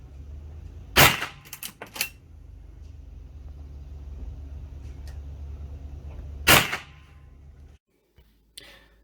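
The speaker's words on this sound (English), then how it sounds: "This is the Henry Golden Boy Youth model, which is the smaller model meant for people of a smaller stature or children to use" A Henry Golden Boy Youth rifle fires two loud, sharp shots a few seconds apart outdoors, followed by faint clicks and handling noises.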